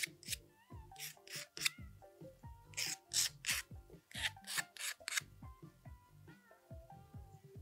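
Tiny burrs are smoothed off a DIY moneybox in a quick series of short, rasping filing strokes, with squeaky, tonal scrapes in between, close and fairly quiet.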